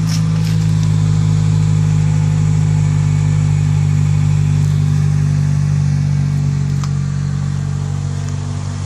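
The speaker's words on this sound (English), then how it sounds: "Exhaust note." A car engine idles steadily with a deep, even exhaust note, loud and close throughout with no talking.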